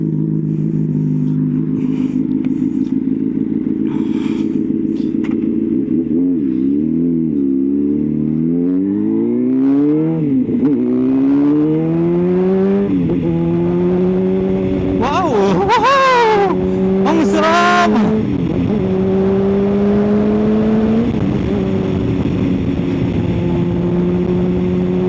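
A 2006 Honda CBR600RR sport motorcycle accelerates on a road test ride, its engine climbing through repeated rising revs with gear changes and two sharp high-rev peaks, loud and close throughout.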